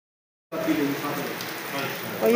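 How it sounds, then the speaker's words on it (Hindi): Heavy rain pours down in a Pakistani village, starting abruptly as a steady, fairly close hiss of countless drops that continues without a break. "ये देखिए जी बारिश तेज हो गई है"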